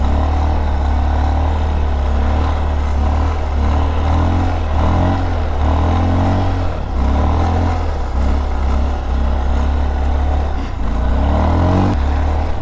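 Motorcycle being ridden and pulled into small wheelies, a loud continuous engine drone that rises and dips in pitch with the throttle, no talk.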